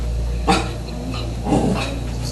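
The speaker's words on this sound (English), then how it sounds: "What are you barking at, Zoe?" A dog named Zoe barks twice, sharp and close, about a second apart, with faint whimpery tones between the barks and a low hum underneath.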